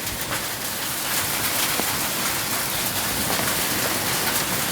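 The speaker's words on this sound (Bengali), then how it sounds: "দেখেন শুধু হিলই পড়ছে, বৃষ্টির চেয়েও বেশি হিল পড়ছে" Hailstones and heavy rain pour down together during a storm in Kapasia upazila, a dense, steady patter and hiss with scattered sharper ticks throughout, no voices.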